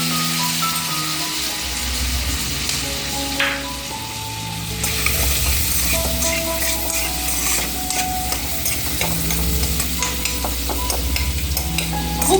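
Chopped onion and garlic sizzle steadily in butter in a pan, a close, continuous crackling fry with occasional stirring scrapes.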